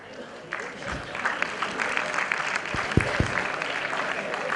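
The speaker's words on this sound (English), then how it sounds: "please clap and applaud the performance" Audience applause at an opening ceremony, a steady crowd clapping throughout with a few louder low thumps near the end.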